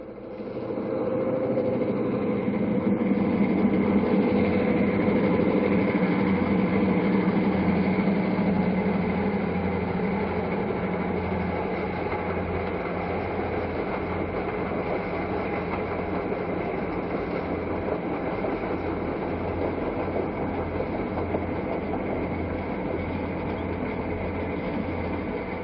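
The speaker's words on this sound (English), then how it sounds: "Next, our train approaches Soldier Summit." A diesel-hauled California Zephyr passenger train approaching Soldier Summit, a steady rumbling roll with low engine drone and faint rail clatter that stays loud and even throughout, no voices.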